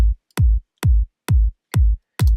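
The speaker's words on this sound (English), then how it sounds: "So together the two kicks sound like this" Five punchy layered electronic kick drum hits, one sample stacked on another with a low boost, strike in an even steady rhythm, each a loud, deep thump with a sharp click at the start and brief silence between.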